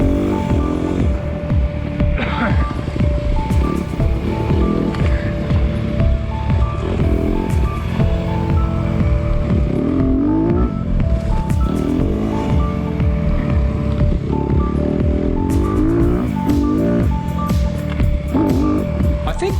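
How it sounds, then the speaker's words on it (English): A Honda CRF150F dirt bike bogs in too high a gear during an enduro race lap, its engine droning loudly and continuously with labored, wavering pitch beside another bike's engine, close and unbroken with no talking. "Thankfully, Megs is a gear too high here. Little 150 bogs down and I can catch up again."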